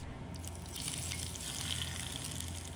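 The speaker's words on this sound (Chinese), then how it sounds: "把锅里的油烧热，烧至100度，它淋在葱花里" Hot oil heated to about 100 degrees poured over chopped scallions crackles in a steady, dense sizzle throughout, close and fairly loud with no voices.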